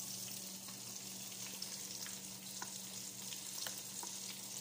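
Fish fries in a pan of hot oil with a steady, faint sizzle and scattered small pops and crackles throughout, no voices.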